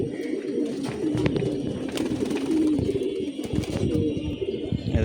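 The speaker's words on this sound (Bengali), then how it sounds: "বাচ্চা কবুতর একটা যেখানে যায় সবগুলো ওখানেই যায়।" Young pigeons coo repeatedly on a rooftop, soft throaty calls overlapping in an irregular rhythm, close by over faint background noise.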